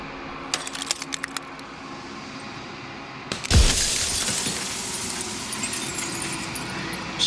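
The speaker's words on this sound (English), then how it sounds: "Shard of broken glass." Glass shatters loudly in the video game Slay the Princess, a sudden crash followed by a long tail of tinkling, scattering shards, preceded by a few faint clinks.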